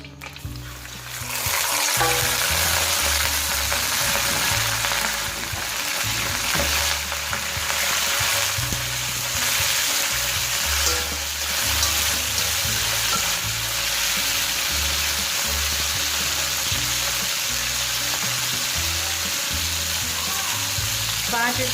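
Beef, 1.5 kilos, sizzling and frying in hot oil in a karahi, a loud steady crackle running the whole time with occasional stirring, no talk.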